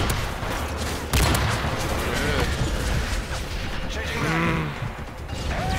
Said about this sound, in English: It gotta be mortars.